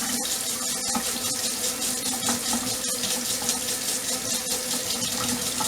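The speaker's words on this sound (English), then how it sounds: "Quarter cup of water into a small saucepan." Warm water runs steadily from a tap into a small saucepan, a continuous close splashing wash that holds level from start to finish with no talking.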